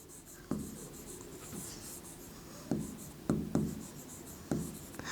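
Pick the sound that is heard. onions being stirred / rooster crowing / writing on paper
writing on paper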